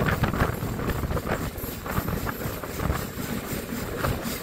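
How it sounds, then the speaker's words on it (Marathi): A crowded commuter train rolls past nearby, a continuous rumbling clatter with rhythmic wheel knocks and wind noise, moderately loud and without talk. "मध्येच ट्रेन आलेली आहे"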